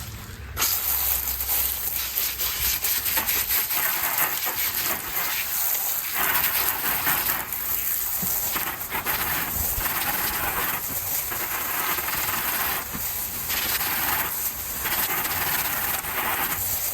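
Running water rinses freshly harvested shallots, a continuous loud gushing hiss with irregular splashing and rubbing pulses as the bulbs are handled, lasting throughout.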